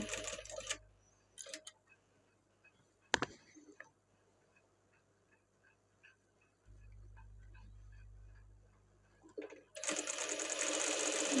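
A sewing machine stitches the edge of a blouse in short whirring bursts, loud at the start and end, with quiet ticking and a low hum between runs.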